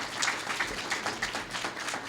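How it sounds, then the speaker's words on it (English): Audience applause for city ward and school board candidates at a Springfield forum, a moderate, steady patter of clapping from a modest crowd. "a round of applause for our candidates in Subdistrict 6"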